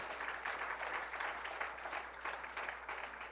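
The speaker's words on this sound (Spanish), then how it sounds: "Den un aplauso a Cristo para que se despierte el que está al lado suyo" A church congregation claps together in sustained, rhythmic applause, the sound heard at a moderate distance and fairly faint, with no clear speech over it.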